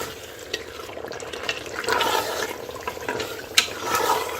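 Rice and water go into a cooker of chicken biriyani with splashing, sloshing pours and a few sharp clinks against the pot, close and fairly loud.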